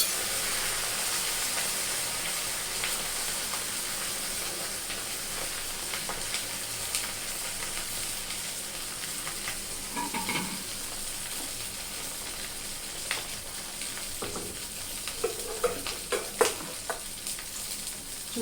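Purnalu sweets sizzle and fry in hot oil, a continuous soft hiss and crackle with occasional stirring bursts, heard alone without talking.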